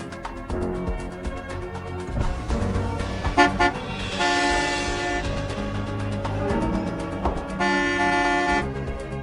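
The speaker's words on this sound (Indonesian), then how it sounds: "Klakson apa sih? Nggak lihat macet di depan?" Car horns honking in a stalled traffic jam, with long sustained blasts and repeated toots layered loudly and close over continuous street noise, with no talking.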